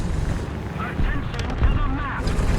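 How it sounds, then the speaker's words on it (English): Propeller aircraft engine drone in the War Thunder combat flight game, a steady mechanical hum that swells slightly as the plane approaches, with a voice talking over it. "I hear another plane, so we need to be careful."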